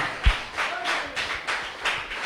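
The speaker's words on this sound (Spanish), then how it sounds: "Denle un aplauso al Señor esta mañana" Church congregation clapping in praise during a Spanish-language service, a soft rhythmic run of claps at a steady beat, moderately distant with no talk.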